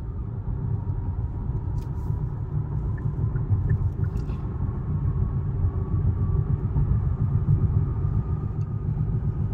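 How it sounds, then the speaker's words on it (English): A Hyundai IONIQ 6 electric car gently accelerates up to highway speed, a steady low road and wind rumble filling the cabin throughout with no engine note and a few faint high ticks. "we're just going to do some gentle acceleration to minimize any sort of losses from heat up to 70 miles per hour"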